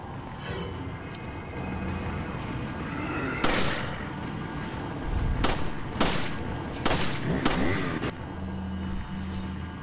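Gunfire in Resident Evil 4: several sharp, loud shots spaced a second or so apart over a rumbling game backdrop, standing alone without talk.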